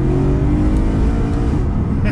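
A BMW E90 M3 engine revs and accelerates in a steady, loud drone that rises slightly in pitch, with a continuous low rumble throughout.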